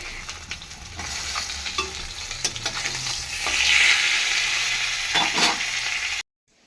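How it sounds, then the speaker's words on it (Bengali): Salted, turmeric-rubbed rohu fish frying in a pan, a steady close sizzle with scattered crackles and spatter that swells midway, then cuts off abruptly. "এখানে একটা মাছ আমি ভাজতে দিয়েছি"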